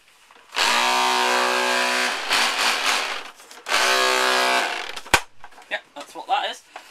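A toy Gold Lancer rifle's chainsaw bayonet runs in two long, buzzy motorized bursts, each several seconds, separated by a brief pause and followed by clicks and handling noises.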